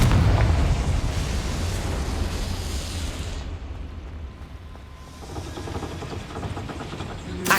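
A fiery Confringo spell explosion in Hogwarts Legacy booms loud and broad, with a rumbling blast that dips briefly midway and then flares up again, and no voices are heard.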